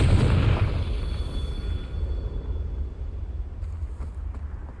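A Confringo fire spell in Hogwarts Legacy detonates with a loud booming burst that rolls into a fading, rumbling tail over several seconds.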